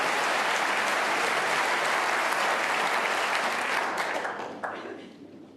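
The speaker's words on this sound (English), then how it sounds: "And listen to the crowd." Snooker crowd at the 2024 World Snooker Championship semi-final applauding an escape shot, a dense, loud burst of clapping that holds steady before fading away over the last second or so.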